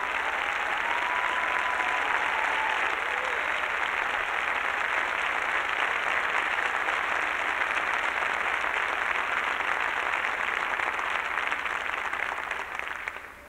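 Sustained audience applause at a 2004 reunion concert honoring the Aeolians choir, a dense, steady wash of many hands clapping that holds loud and even for the whole stretch before fading slightly at the end.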